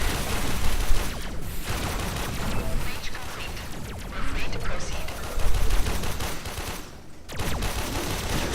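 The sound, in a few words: gunfire from the video game Warframe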